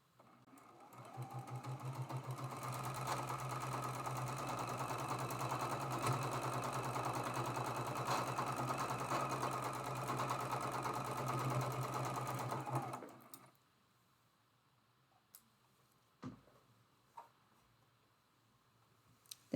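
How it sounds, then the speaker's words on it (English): A sewing machine stitches a quilt block seam, a steady close mechanical whir running unbroken for about thirteen seconds before stopping, followed by a few faint clicks and handling sounds. "We're sewing our fourth seam."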